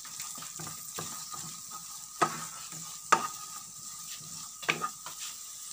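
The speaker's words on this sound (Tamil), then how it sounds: "இதுவும் கொஞ்சம் வதங்கட்டும்." Thinly sliced onions and green chillies sauté in a pan, a soft steady sizzle broken by a few sharp scraping stirs of the spoon, quiet and close with no talking.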